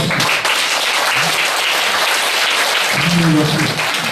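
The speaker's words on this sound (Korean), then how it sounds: "환영의 박수." An audience at a book launch gathering bursts into welcoming applause, a steady, dense wash of clapping that stays loud and close from start to finish, with a voice briefly audible underneath.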